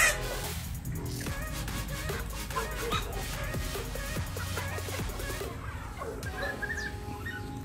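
Native chickens cluck and squawk in a backyard flock, a steady mix of close and farther calls under a busy background, with the occasional louder cry.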